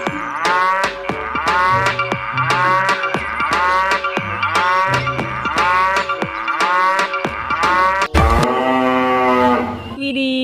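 A cow moos loudly and repeatedly, a steady series of long close calls, with a sharp break near the end before a final drawn-out moo.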